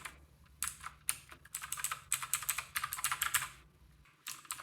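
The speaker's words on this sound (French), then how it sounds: "un clavier mécanique à 19 balles" Rapid typing on a cheap Battletron mechanical keyboard with blue switches, a close, loud clatter of sharp clicky keystrokes in bursts with brief pauses between.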